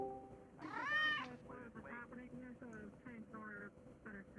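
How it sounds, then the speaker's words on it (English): A cat meows loudly and close by in a drawn-out harmonic cry, then keeps up a string of shorter mews over steady background hum, heard in a night scene of a VRChat roleplay. "like, cat noises?"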